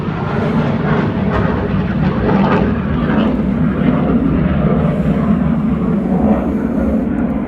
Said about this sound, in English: There's a jet flying over.